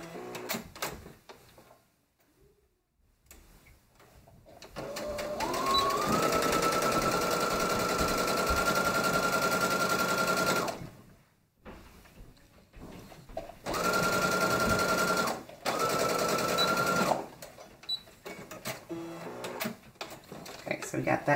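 A sewing machine stitches dress shoulder seams on a zigzag setting in two loud, steady bursts separated by pauses, with handling clicks and a person talking between runs.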